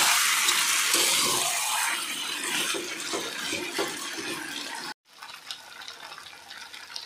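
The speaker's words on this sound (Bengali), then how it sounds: "এইবারে দেব একটু গরম জল" Hot water poured into chicken curry simmering in a wok makes a steady, broad rush of liquid for about five seconds. It stops abruptly, and a softer sizzle and bubbling follow.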